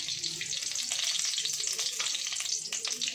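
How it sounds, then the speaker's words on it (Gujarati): Ghee heating and sizzling in a hot kadai for a Kathiyawadi whole-onion curry, a steady close crackling hiss with dense spitting pops throughout, no voices. "આપણે કઢાઈ ગરમ થઈ ગઈ છે તો આ રીતે થોડું ઘી રેડ દઈશું અંદર"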